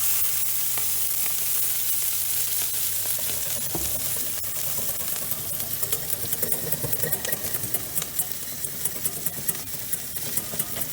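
Stirring food in a sizzling pan, for a fish and asparagus dish, with steady frying hiss throughout and soft scraping and clinking as the contents are mixed.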